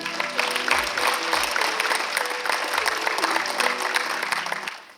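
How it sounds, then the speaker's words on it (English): An audience at a JROTC military gala applauds graduating cadets and senior cadet leadership, with steady, dense clapping that fills the room for several seconds and then tapers off at the end. "let's give our top cadet leadership and these outstanding graduating seniors a round of applause."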